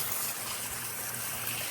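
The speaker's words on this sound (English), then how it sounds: "and the water is going through the hose." Water rushes through a garden hose connected to a two-zone timer while filling a pond, a steady hissing flow with a low watery rumble, close and continuous without speech.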